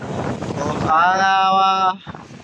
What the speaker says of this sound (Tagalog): narinig nyo naman yung hagunghong ng hangin